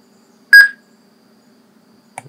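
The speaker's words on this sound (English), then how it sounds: "It's going to write radio should beep." A Motorola Radius M1225 two-way radio gives a single sharp electronic beep after being programmed, loud and close in near silence, followed by a faint brief click at the end.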